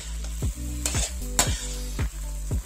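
Garlic shrimp frying in a pan with banana ketchup, stirred with a utensil: a steady sizzle under repeated scraping strokes and a low hum, close and fairly loud, with no talking.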